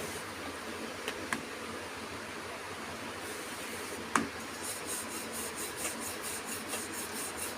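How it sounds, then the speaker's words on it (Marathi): Steady soft rubbing of a rolling pin working chapati dough, a continuous close scraping hiss with a couple of faint knocks and a brief clack midway. "सोप्या पद्धतीने पोळी लाटून दाखवायची आता."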